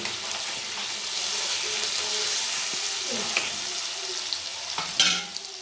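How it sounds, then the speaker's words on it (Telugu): A spoon stirs turmeric into a sizzling mixed-vegetable curry in a pan, giving a steady close frying hiss with scraping and a few sharp clinks toward the end. "పసుపు వేసుకొని స్పూన్తో అంతా మిక్స్ చేసుకోవాలి"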